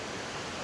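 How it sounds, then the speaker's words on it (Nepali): Water rushing down from above into a trout farm in South Lalitpur, Nepal: a dense, continuous hiss of flow, steady and fairly near, with no other sounds. "माथिबाट यसरी पानी आइरहेको छ ट्राउटको लागि।"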